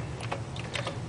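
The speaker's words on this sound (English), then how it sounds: "So I'll do that by typing in the @CD:2010." Keys clacking on a Commodore 64 keyboard as a disk drive command is entered, a quick run of close, crisp keystrokes over a steady low hum.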